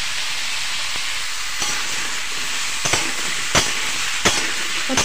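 Cauliflower fries in a pan for a mixed vegetable dish, giving a steady close sizzle with a few sharp scraping knocks from stirring, no voices.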